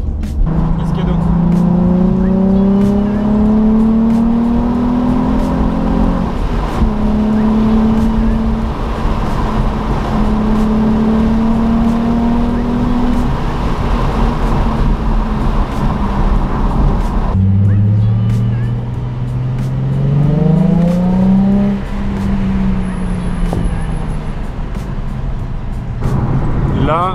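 A car cruising in sixth gear at 90 km/h and 2000 rpm gives a steady, low engine drone with road and wind noise throughout. The pitch shifts gently as the load changes.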